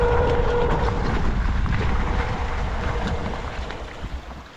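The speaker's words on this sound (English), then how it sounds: "So I've come to some running water." Steady broadband rush of water from a creek beside an abandoned railway line, loud and close at first and easing slightly toward the end, with wind noise on the microphone.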